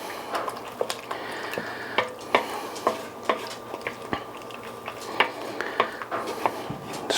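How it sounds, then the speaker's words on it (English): A spoon stirs red chile pork, carne adovada, in a pot, with repeated sharp clinks and scrapes against the metal and a thick wet squish between strikes, close and fairly loud with no talking. "So let's give this a stir."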